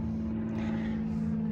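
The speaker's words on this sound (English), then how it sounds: "Do have a plane going over, so apologize for the noise there." A propeller airplane drones steadily overhead above a garden, a continuous low hum with a strong steady tone that stays level throughout with no voices.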